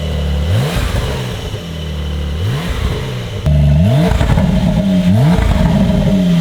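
A Porsche 911 Carrera of the 992 generation with a Gexhaust exhaust, up on a lift, revs in repeated rising blips, loud and close, with a deeper, harsher tone in the second half.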